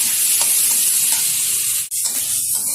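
Ivy gourd and potato chunks with turmeric being stirred in hot oil: a steady, loud sizzle and hiss with scraping stirs, briefly dipping before continuing.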